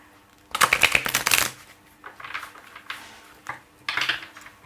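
A Whispers of Love oracle deck is shuffled in close, crisp riffling bursts, a long one first and then several shorter ones, with no talking.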